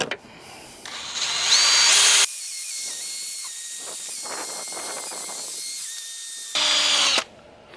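A power tool runs on a headlight lens during sanding with 500 grit sandpaper from a 3M headlight restoration kit, whining loudly in bursts at the start and end, with a steady lower drone and faint scrapes between.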